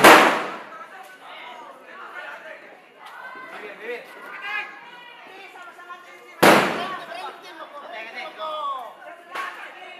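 Two sharp, loud firecracker blasts go off, one at the start and one midway, with excited crowd voices and shouting filling the street between them during a New Year 2021 firecracker war in Indonesia.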